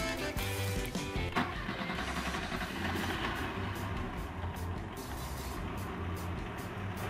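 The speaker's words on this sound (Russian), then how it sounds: "Проверяем холостой ход, заводим." A car engine starts and settles into a steady idle, a continuous low rumble with some clattering at the start, heard close and without talk.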